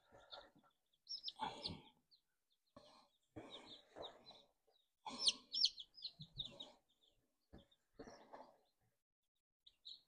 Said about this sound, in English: So we got 12 baby chickens.